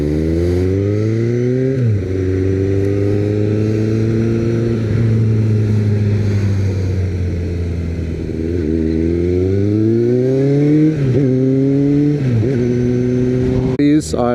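A motorcycle ridden at an easy cruising pace by a new rider, its engine droning steadily up close with smooth rises and dips in pitch as it shifts and changes speed, and a brief sharp sound right at the end.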